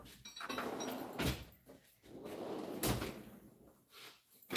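A drawer in a workshop slides open and shut a few times, with scraping runs and sharp knocks, fairly faint and close, no talking over it.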